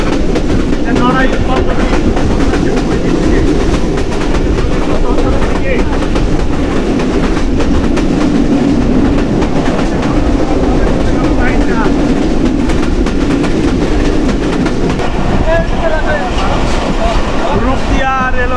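Rocket Mail train running through Rupdia railway station in Bangladesh, a loud continuous rumble and rattle of the carriages with rhythmic clatter, while people talk intermittently over the noise.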